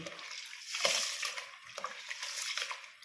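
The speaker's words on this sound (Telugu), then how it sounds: "ఇలా బాగా 10 సార్లు కడిగేసి నీళ్లు పోసేసి మూత పెట్టేసుకోవాలి" Raw rice is washed in water several times before soaking for Sankranti sweets, giving a soft, continuous sloshing and gritty swishing with a few brief splashes, close by and fairly quiet.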